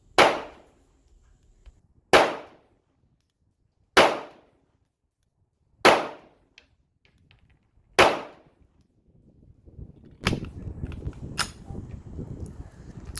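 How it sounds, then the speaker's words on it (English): Five sharp 9mm shots from an IWI Jericho 941 pistol crack out at an outdoor range, evenly spaced about two seconds apart, each with a quick decay, followed by rustling handling noise. "I'm shooting at I think 7 yards"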